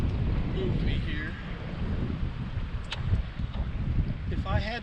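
Strong wind buffets a bass angler's boat out on Lake Lanier, a constant loud rumble across the whole stretch with a faint voice briefly audible underneath.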